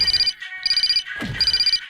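A mobile phone ringtone sounds in three bright electronic bursts with short gaps between them, loud and close, with no talking.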